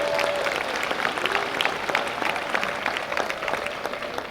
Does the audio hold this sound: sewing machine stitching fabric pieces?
no